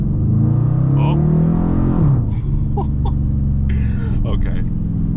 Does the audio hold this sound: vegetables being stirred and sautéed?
no